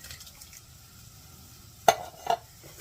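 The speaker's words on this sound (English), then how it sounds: "Now I'm going to add 2 cans of the petite diced tomatoes" Two cans of petite diced tomatoes tumble into a simmering chili pot with kidney beans, giving a couple of sudden wet plops and clatters against a faint background sizzle.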